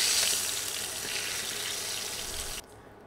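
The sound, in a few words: fish frying in oil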